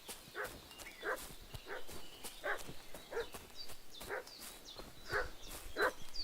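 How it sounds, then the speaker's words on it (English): Dog barking in the medieval village world of Kingdom Come: Deliverance II, a run of about ten sharp, evenly spaced barks at moderate distance over a faint background hum, with no talk. "What's that dog making such a fuss about?"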